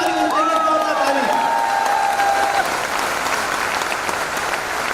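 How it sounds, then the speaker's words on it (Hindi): Loud crowd applause with cheering at a business event in Kangra, Himachal, dense clapping filling the room while a whistle-like tone sweeps over the start, sustained for the whole stretch. "सबसे जोरदार ताली होनी चाहिए, जोरदार ताली"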